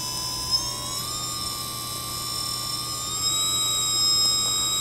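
A QAV 250 quadcopter motor spins up during flight controller setup, giving a steady high electric whine that climbs in pitch in small steps and holds, close and alone, with no talking.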